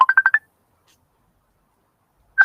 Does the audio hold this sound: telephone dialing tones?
yes